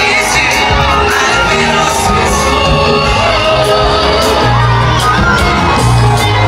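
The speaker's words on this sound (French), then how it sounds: "Les hurrahs et les acclamations accompagnent le président" A large outdoor crowd cheers and shouts in acclaim as a former Ivorian president's motorcade arrives at a church headquarters, with whoops and yells over a continuous roar and a vehicle horn sounding near the end.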